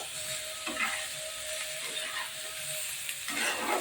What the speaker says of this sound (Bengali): আর একটু ভাজা ভাজা করে নিচ্ছি